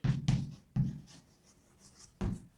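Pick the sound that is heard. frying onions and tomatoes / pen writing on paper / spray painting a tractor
pen writing on paper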